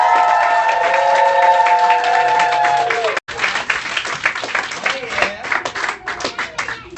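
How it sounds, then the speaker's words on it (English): At a live radio show, an audience breaks into applause and cheering. The clapping is dense and close, with whoops over it, after a short cut near the start where a held musical tone can be heard. "Make some noise for my new friend Max"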